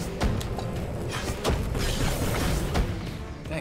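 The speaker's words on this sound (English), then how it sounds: "Big explosion!" A big explosion goes off in the video game Undermine, several heavy booming bursts landing over a constant game background, each one sharp at the onset, with no talk.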